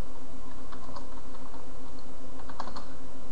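A code is typed on a computer keyboard, fast, steady key clicks close up over a constant background hiss.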